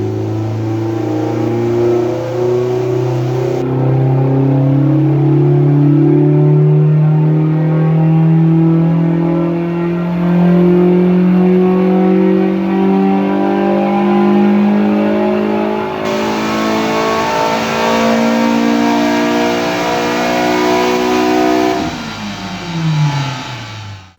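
A Ford Fiesta ST with a 2.0 Duratec engine and Mountune inlet manifold pulls hard through long, rising revs, loud and close, with gear changes and a final drop off throttle near the end.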